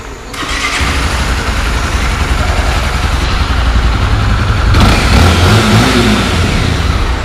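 A Honda XRE-300 motorcycle engine starts and revs loudly up close, then holds a steady roar with shifts in pitch, with no one talking.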